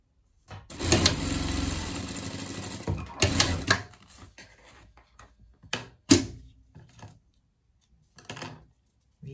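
A sewing machine stitches a seam on a small pet tuxedo, joining piping and a half ring. It runs in several stop-start bursts: a long run at first, then shorter ones, with quiet pauses between.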